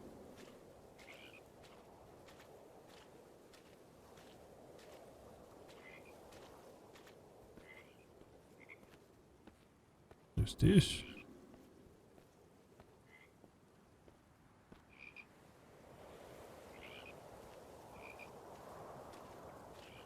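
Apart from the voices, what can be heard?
frogs croaking in a video game (Purpose 1951)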